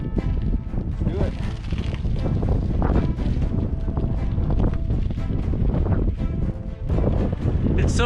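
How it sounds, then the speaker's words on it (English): Cold wind buffets the microphone while riding a bike into a headwind during a rare desert snowstorm, a loud steady roar of gusts filling the whole clip. "It's so cold"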